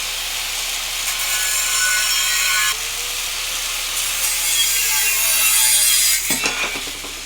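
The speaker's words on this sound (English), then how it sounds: "For an angle grinder" An angle grinder cutting a steel toe cap for sandals, a steady loud grinding whine held for several seconds at close range, ending in a few rough scraping bursts.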